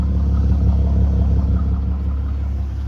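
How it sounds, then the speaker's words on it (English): A Mercedes W203 car engine revs steadily from the exhaust, a deep, loud rumbling note that holds for a few seconds and eases off slightly near the end. "that's the revs from the back"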